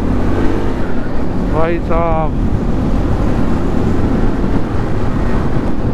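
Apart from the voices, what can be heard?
motorcycle engines in tunnel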